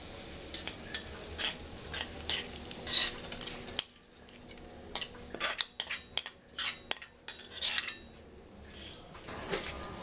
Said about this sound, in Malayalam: എന്നിട്ട് നന്നായിട്ട് ഇളക്കി കൊടുക്കുക